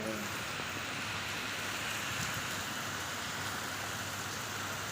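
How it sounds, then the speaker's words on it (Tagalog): Heavy morning rain in Abu Dhabi falls in a constant, even hiss close by, steady throughout with no talking. "Ang lakas na ng ulan."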